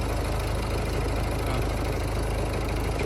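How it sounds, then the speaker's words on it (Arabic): A car engine idles steadily with a dense, continuous rumble and a faint rhythmic knocking running through it, loud and close, with no talking. "اسمع الضرب اللي غادي يولي فيه هذا الموتور هذا"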